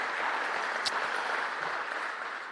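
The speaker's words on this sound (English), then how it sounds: "Can we have a round of applause for Rick Cole?" An audience at a Hofstra basketball media day applauds in a dense, steady burst of clapping that fills the room and tapers slightly toward the end.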